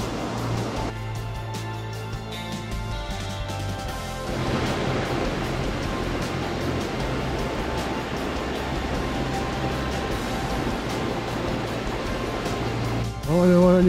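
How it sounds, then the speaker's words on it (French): The Cascade d'Ars waterfall on the GR10 hiking trail roars as a steady, dense rush of falling water that swells in after a few seconds and holds at full strength, close and continuous. "on arrive enfin à la cascade d'Ars"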